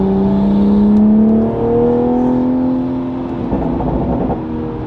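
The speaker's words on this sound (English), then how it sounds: "he has a full exhaust on here as well," Toyota Supra MK5 with a full exhaust under steady acceleration, a smooth droning tone that rises in pitch, close and continuous with no talk.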